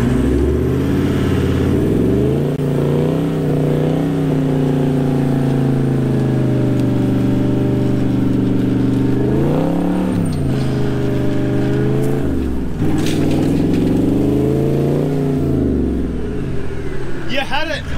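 Toyota Land Cruiser engine revving hard while stuck on soft ground in Marble Bar, Australia, a loud strained drone rising and falling in several surges, with voices talking over it.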